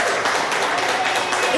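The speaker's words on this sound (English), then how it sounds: "It was an applaud of gratitude." Applause of gratitude from a gathering of families receiving Thanksgiving baskets, a dense steady wash of many hands clapping together, loud and continuous throughout.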